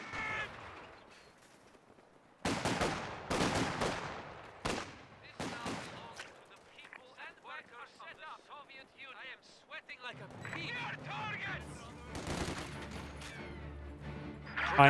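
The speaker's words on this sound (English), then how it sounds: "MG42 does find a burst in the conscripts." An MG42 machine gun in Company of Heroes 2 fires in short rattling bursts among other gunfire, with a commentator talking throughout.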